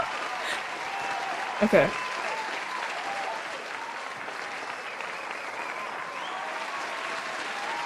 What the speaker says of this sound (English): I forgot how long this applause is.